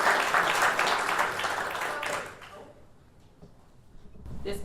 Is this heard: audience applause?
yes